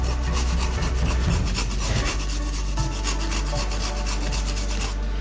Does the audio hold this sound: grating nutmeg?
yes